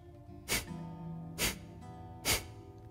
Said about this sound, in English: Exhale by pulling in your stomach and drawing your navel towards the spine.